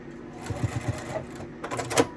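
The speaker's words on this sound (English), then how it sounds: "Needle down, foot up, pivot the quilt so you sew right off of that corner." Sewing machine stitching quilt binding around a corner, a run of quick even needle pulses followed by a pause and a second burst, fairly close and moderately loud with faint background noise.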